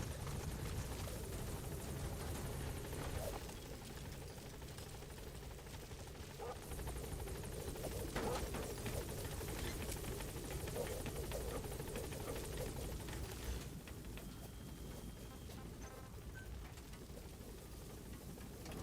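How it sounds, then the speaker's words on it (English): A support helicopter arrives in the video game Metal Gear Solid V, its rotor throbbing steadily and close alongside bird coos and faint background game sounds, with a brief tonal whine near the end. "Support helicopter has arrived."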